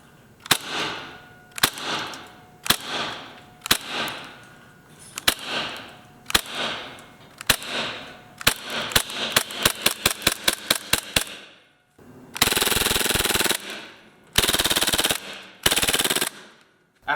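A KWA KMP-9R gas blowback airsoft submachine gun firing BBs on green gas, sharp single cracks spaced evenly, then quickening into a rapid string, ending in loud full-auto bursts.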